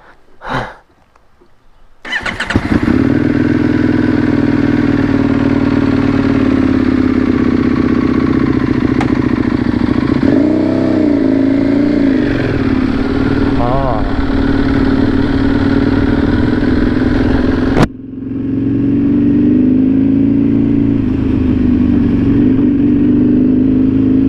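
A heavy sport motorcycle, an EBR 1190 or a Kawasaki H2, fires up after a brief sputter and pulls hard with a loud, sustained engine roar, drops off sharply for a moment near the end, then returns to a steady drone.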